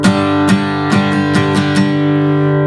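Guitar strumming a chord with ringing sustained strings, several strums in a loose rhythm with bright attacks, close and alone with no voice.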